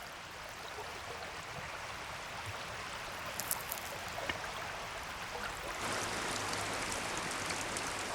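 Rain beats down on a mountain river during amago spawning season, a constant broadband hiss of drops on moving water that thickens slightly toward the end, with no voices.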